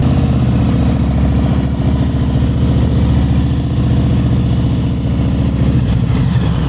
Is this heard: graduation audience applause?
no